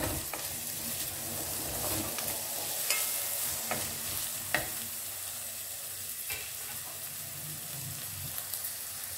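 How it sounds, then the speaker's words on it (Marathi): Popti (field bean) seeds are dry roasted in a kadai, a soft continuous rustling and crackle of seeds shifting on hot metal, with occasional sharper scrapes and clicks from stirring. "बघा या प्रकारे भाजायचं आहे"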